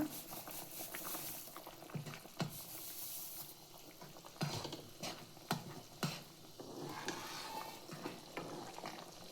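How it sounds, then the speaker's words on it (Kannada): Water boils in a pot for rice rava uppittu, a soft, quiet bubbling and sizzling with occasional stirring scrapes and small clinks, with no talk. "ಚೆನ್ನಾಗಿ ಕುದಿಯಲು ಬಿಡಿ."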